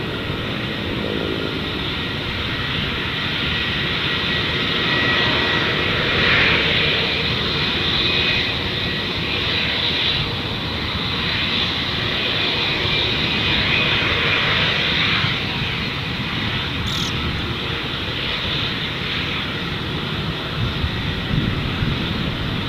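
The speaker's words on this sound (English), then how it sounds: "The Jetstar 405 by the sounds of it." A Jetstar jet airliner taking off from Gold Coast Airport bound for Sydney, a heavy sustained engine roar that swells and holds, fairly loud and distant-to-mid range, with no talking.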